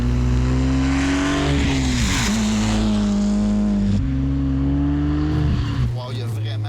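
Renault Clio V6 engine pulling hard under acceleration, a loud, close, rising growl with two gear changes where the pitch drops and climbs again, easing off near the end.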